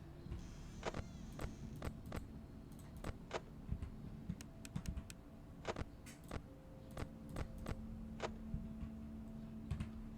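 Keyboard keys are pressed to close doors in the game FNAF 4, giving a string of sharp, irregular clicks over a low steady hum, with no talk.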